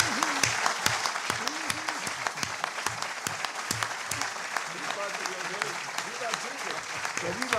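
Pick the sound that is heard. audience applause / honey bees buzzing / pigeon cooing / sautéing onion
audience applause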